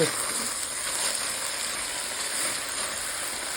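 Vegetables sautéing in a pot before beef stock is added, giving a soft, steady sizzle that runs throughout at moderate level, with no talk over it.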